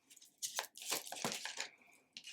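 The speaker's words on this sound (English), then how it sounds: "I'll tell you about all the cards once I'm done shuffling here" Tarot cards being shuffled by hand, giving bursts of papery riffling and crinkling for about two seconds with a short pause in between, close and fairly quiet.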